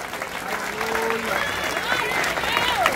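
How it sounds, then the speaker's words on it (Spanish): Church congregation applauding at an evening sermon service, a steady wash of clapping mixed with crowd voices, shouts and tonal sounds, sustained throughout at moderate loudness. "Dele aplauso al Señor y entre conmigo al trono."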